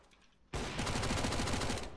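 Dual pistols in the CSGO video game fire a loud, rapid stream of evenly spaced shots that start abruptly after a quiet moment and continue steadily to the end.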